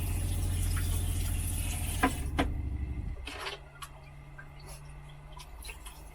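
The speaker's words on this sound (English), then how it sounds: "So we're pausing to let the pump run." The water pump of a parked motorhome runs with a low, steady hum and rhythmic pulsing. A few clicks and knocks sound over it, and then the pump stops, leaving only a faint tone and quiet room sounds.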